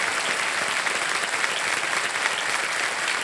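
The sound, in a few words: studio audience applause for KBC contestant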